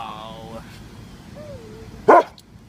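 A pet dog in a household with several dogs lets out one sharp, loud bark up close after some soft whining, while someone talks nearby.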